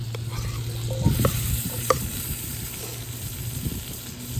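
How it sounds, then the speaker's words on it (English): Vegetables cook down in a pan over the heat, a steady low sizzle with a few soft stirring knocks and scrapes, close and moderately loud throughout, with no talking. "let's get our vegetables nice and cooked down"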